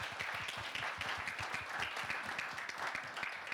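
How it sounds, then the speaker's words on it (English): Faint, somewhat distant applause from a seated audience at a maritime industry panel event: a dense, even patter of many hands clapping throughout. "Give yourselves a round of applause."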